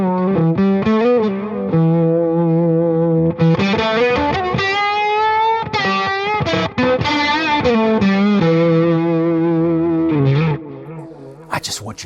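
Electric guitar through a heavy octaver preset on a VP4 effects unit plays a loud, thick, distorted riff with a doubled octave tone, chords and sliding notes sustaining continuously before trailing off at the end.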